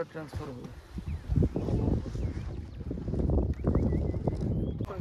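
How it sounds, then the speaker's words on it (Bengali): A rescue boat's motor rumbles on Lake Naivasha in Kenya amid wind buffeting and water noise, with people talking over it. "দেখো রেস্কিউ বোট এসে গেছে আমাদের"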